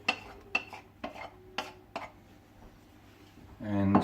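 Chopped onion goes into a pan for a cottage pie and is stirred, giving a few sharp utensil clacks and scrapes at a steady pace, followed by a louder rush of cooking noise near the end.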